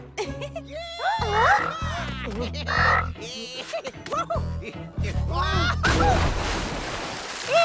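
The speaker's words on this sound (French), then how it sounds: "Regardez des vagues." Ocean surf breaks into a loud, broad wash of noise near the end, after a stretch of cartoon voices and croaking sounds over music.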